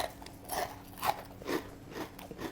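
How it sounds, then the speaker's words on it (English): Crispy fried Malaysian spiced chicken is bitten into several times, producing sharp, close crunches in a loose rhythm, each followed by brief crackly chewing, with no talk. "Let us try the crunchy bit first."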